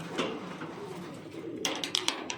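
Pigeons in a cage, cooing softly in low, throaty murmurs, followed by a few sharp flutters or scuffles near the end, close by.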